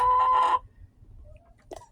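Chickens in their coop give a loud, brief crow-like call up close, followed by quieter low clucks and a short squawk, with no talking.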